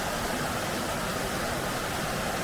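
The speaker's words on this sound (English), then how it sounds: "I don't know how much you can hear me over the noise of the water" A waterfall on a mountain stream in Great Langdale in the Lake District roars as a steady, dense rush of water, loud and close, filling the whole stretch with no talk audible above it.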